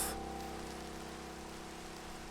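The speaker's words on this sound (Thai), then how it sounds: "โอ้ฝนตกเลยเหรอเนี่ย" Steady rain hisses across a Grand Theft Auto game world, a continuous, even wash of falling water at moderate level with no voices over it.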